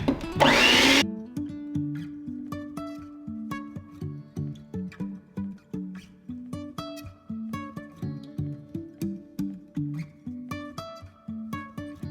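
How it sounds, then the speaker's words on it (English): An electric mixer whirs loudly and close for about a second while beating sweet potato pie cheesecake batter, then cuts off, leaving background music playing on its own. "we got to come in with the mixer"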